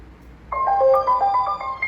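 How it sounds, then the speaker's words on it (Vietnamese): A small music speaker plays its power-on startup chime, a short bright melody of several ringing electronic tones, close and clear with no talking. "Khi mọi người nghe âm thanh như vậy á, là loa nó đã mở lên rồi."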